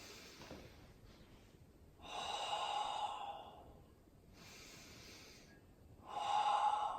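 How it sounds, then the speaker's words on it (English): Deep, slow belly breaths taken while stretching back over a Swiss ball: two long, airy exhalations and inhalations, close and breathy, separated by quieter pauses, with no talking. "breathing diaphragmatically to fill your belly"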